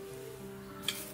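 Cooking oil is poured over chili flakes, chili powder, sesame and salt for chili oil and stirred, a faint steady sizzle with a soft clink of a utensil near the end, quiet and close.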